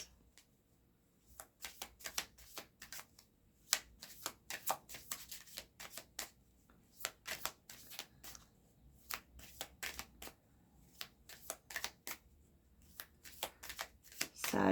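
Tarot cards being shuffled by hand, a long run of quick crisp riffling bursts in an irregular rhythm, close up and fairly quiet, with no talking.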